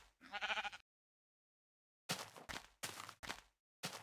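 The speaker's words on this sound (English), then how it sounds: "I want that sheep to look at me. Oh, you dumb sheep." Minecraft sheep bleat in a video game, one wavering bleat followed after a pause by four short bleats in quick succession, fairly quiet and heard alone.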